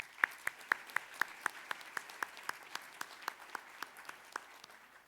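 A luncheon audience gives a round of applause for the luncheon committee at an annual awards event, the claps sharp and evenly spaced and slowly easing off over five seconds.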